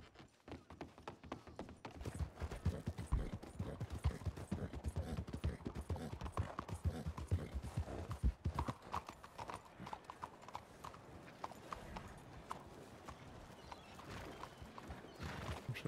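Horse hooves clip-clop steadily in a Western-themed video game, a continuous rhythmic clatter of hoofbeats running throughout with a brief whinny.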